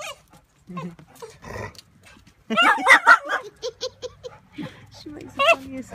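A small dog gives a run of high, squeaky whimpers and short yips, close by, with people talking and laughing around it.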